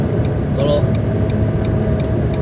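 A manual Nissan March L 1.2 cruises along the Cipularang toll road, a steady close engine and road-noise drone filling the interior with faint tick-like pulses throughout.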